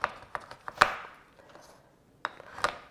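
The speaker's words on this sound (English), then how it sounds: "I usually wouldn't get tired chopping chocolate, but I kind of am." A knife chops through chocolate on a cutting board, making about eight sharp, close knocks in an uneven rhythm with a brief pause between bursts, no speech.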